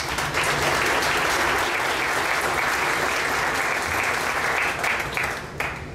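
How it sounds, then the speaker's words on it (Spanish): A conference audience at a commercial bankruptcy lecture claps steadily to welcome the speaker, a full, continuous round of applause that holds for several seconds before thinning slightly at the end. "Cedo la palabra a nuestro disertante, no sin antes recibirlo con un fuerte aplauso."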